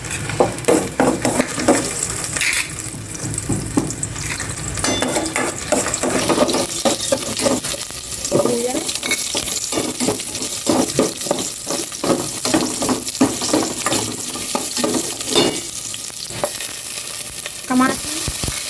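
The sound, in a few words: sautéing garlic in a frying pan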